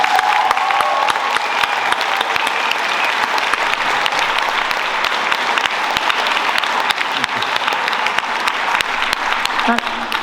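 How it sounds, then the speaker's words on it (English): Sustained, loud applause fills a hall at a school carol concert, dense clapping with some cheering carrying on steadily for the whole stretch. "So a huge round of applause, please."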